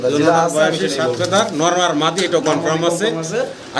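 Newly acquired pigeons cooing at close range, repeated throaty rolling coos overlapping one another, with a person talking over them.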